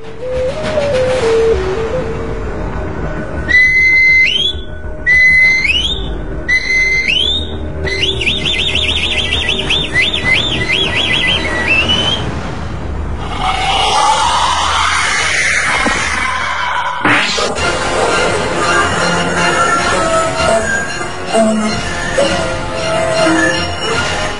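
An Aztec death whistle gives a piercing, wavering shriek that rises and falls repeatedly, harsh and loud, like a screaming whistle over a dense, noisy backdrop.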